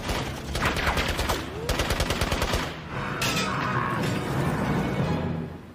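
Rapid rifle shots crack out in bursts amid crashing impacts, loud and close, forming dense volleys of fire with brief pauses between strings.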